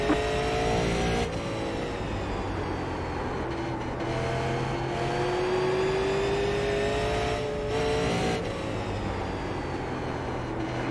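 A Super Late Model race car engine in the iRacing game drones continuously, revving and shifting through gear changes on an oval at Southern National, loud and steady throughout.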